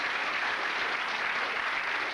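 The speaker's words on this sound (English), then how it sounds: "A nice round of applause for George." A studio audience claps steadily for a guest named George on a magic show, a dense, even wash of applause that holds at full strength throughout without any voices.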